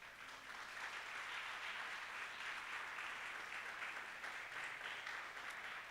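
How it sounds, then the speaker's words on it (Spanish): Church congregation applauding during a sermon, a steady wash of many hands clapping at a distance, soft and even for several seconds with a faint low hum beneath. "Dale un aplauso a Él entonces"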